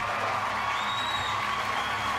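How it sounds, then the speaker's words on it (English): An audience at a talk on Indigenous history sends up a dense, continuous wash of applause and cheering, with a whoop rising briefly above the crowd noise. "let me give Fred Hampton a round of applause."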